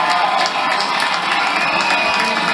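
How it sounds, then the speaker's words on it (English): A home crowd at a high school football game, A L Brown vs Burns, gives a standing ovation, a loud continuous wash of cheering and clapping. "they're getting a standing O from the home crowd here"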